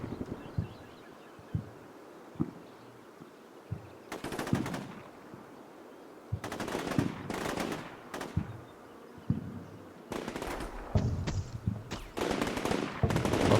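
Gunfire in the military video game Combat Mission Shock Force 2 during an assault on a building, sharp single shots and bursts of automatic fire in irregular clusters, some near and loud, others fainter, with no talking.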